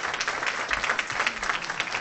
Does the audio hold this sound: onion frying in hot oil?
no